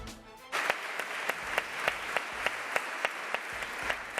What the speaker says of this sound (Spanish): Aplauso unánime de todos los diputados, diputadas y compañeros para Cristóbal García Vargas